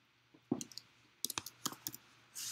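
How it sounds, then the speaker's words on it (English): Computer keyboard keys tapped while entering a search for custom permissions in a setup menu, a short, quiet run of separate clicks over faint hum, ending in a brief hiss. "I'm gonna go to setup and type custom permissions."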